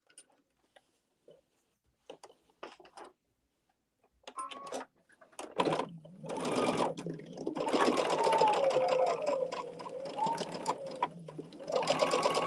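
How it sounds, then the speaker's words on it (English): Sewing machine stitching slowly over pins while piecing quilt blocks, starting after a few scattered clicks and short bursts, then running steadily and fairly loud with a rhythmic ticking texture for the last several seconds. "am sewing over my pins, which I normally don't, but I'm sewing slowly."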